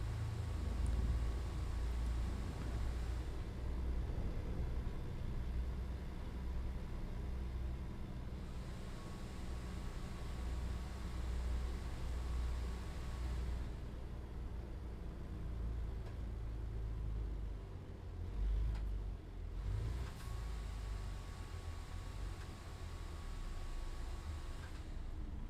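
A truck engine with a sound mod in Euro Truck Simulator 2 drones steadily, a low rumbling hum with a faint whine, varying slightly over time and heard alone.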